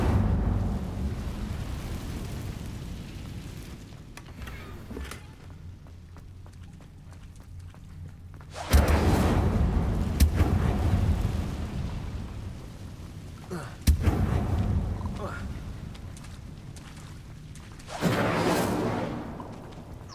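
A fire spell cast in the Hogwarts Legacy video game, heard as several sudden roaring whooshing bursts of flame, each flaring loudly then fading, spaced a few seconds apart over a low rumbling background.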